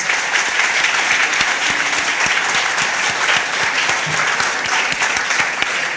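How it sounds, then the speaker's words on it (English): A gala audience gives a round of applause, a loud, dense and sustained patter of many hands clapping with a few sharper individual claps standing out, and no talking over it. "Can we please give them a round of applause?"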